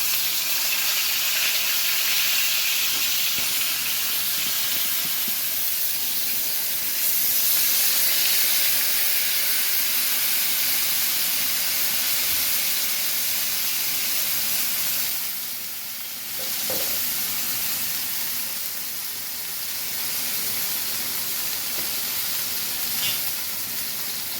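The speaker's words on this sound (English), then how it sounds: "we're going to let this salmon cook the flesh side down" A salmon fillet frying flesh side down in oil hot enough to smoke, giving a loud, steady, unbroken sizzle and hiss that runs throughout without talk.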